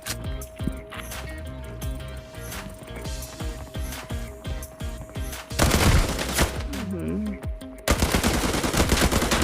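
Rapid gunfire from enemy weapons in the video game Arena Breakout, a loud, steady stream of close shots, then heavier bursts in the second half, with game sounds around them.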